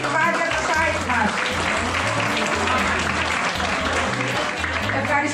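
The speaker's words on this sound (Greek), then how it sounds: "στην κυρία Άννα Βούλγαρ, ένα χειροκρότημα για το άντρο Λιβάδια του site μας" An audience at a village association's pita-cutting celebration claps in steady, moderately loud applause that carries on under a person speaking.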